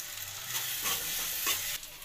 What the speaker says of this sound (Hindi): पत्ता गोभी को भी अच्छी तरह से भूजेंगे इसमें